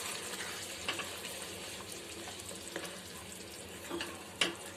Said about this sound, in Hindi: इसको अच्छे से मिला लेंगे।